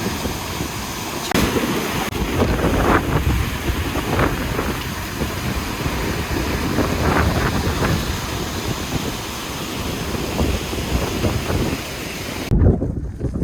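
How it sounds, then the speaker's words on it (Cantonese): Strong wind at a waterfall in Iceland buffets the microphone in a steady roaring rush, with a broad watery wash of falling water underneath and no voices. "都幾大風嘅呢邊"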